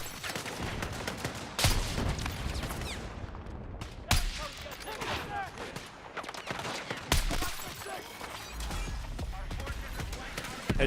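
Battlefield 6 firefight with scattered heavy gunshots standing out as sharp loud reports every few seconds over continuous background battle noise and crackling fire.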